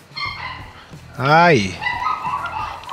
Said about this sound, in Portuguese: mais um cachorro agora